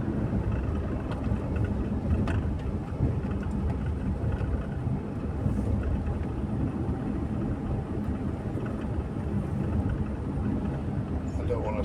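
A car drives along on a Sunday afternoon, with a steady low engine and road rumble from inside the cabin that holds even throughout, and voices talking over it.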